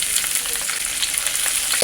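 Chopped onion sizzling in hot oil in a pan with garlic and spices for pointed gourd bharta, a steady close crackling fry with light stirring throughout.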